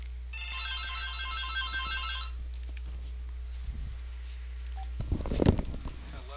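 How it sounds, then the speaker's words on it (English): Phone ringing in the video game The Simpsons: Hit & Run, a patterned electronic ring repeating for about two seconds, followed by quieter game sounds and a short burst of louder noise near the end. "But the phone is ringing."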